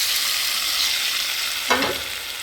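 A tempering of cumin, garlic and curry leaves sizzles in hot oil in a pan for raw papaya upkari, a loud continuous hiss with a sudden burst of crackling as the tempering hits the dish, heard up close without talk.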